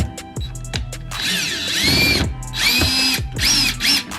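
A cordless power drill drives a Phillips screw while removing a rear shock on a 2006 BMW 330i E90 in a home garage, giving several loud, close whirring bursts separated by brief pauses, with no talking.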